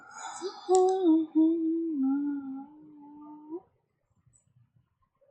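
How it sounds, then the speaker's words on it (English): A cat lets out a long, drawn-out yowling meow lasting a few seconds, close and fairly loud, followed by near silence. "What are you doing, Mr. Kitty?"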